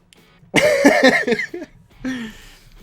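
A person coughs close to the microphone, a loud, harsh burst of several rapid coughs followed by a shorter, rougher cough a moment later.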